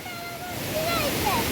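Water rushes steadily at a waterfall viewpoint, a loud continuous wash of noise with faint voices in the background.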